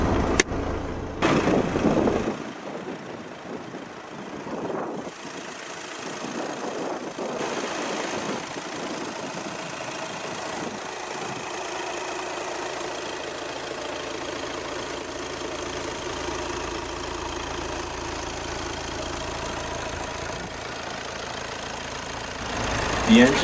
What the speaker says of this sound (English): The engine is a 2-litre TDI turbo diesel.